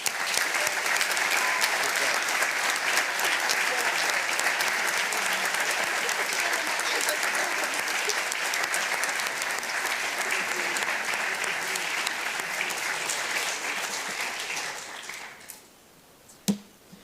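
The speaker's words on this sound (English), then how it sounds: "Please give them one round of applause to make sure that they are all appreciated just as much" Sustained, dense audience applause for student officers at the BERMUN2 2026 Model UN closing ceremony, loud and even for about fifteen seconds before fading out, followed by a single sharp tap.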